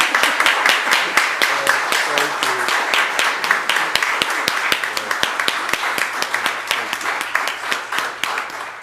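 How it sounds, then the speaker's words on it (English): Sustained audience applause at a church concert after a trio's performance, dense steady clapping filling the space for the full stretch, loud and continuous without a break. "Let's give him another round of applause."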